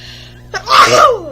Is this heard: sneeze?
yes